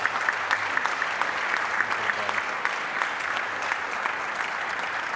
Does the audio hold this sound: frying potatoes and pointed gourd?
no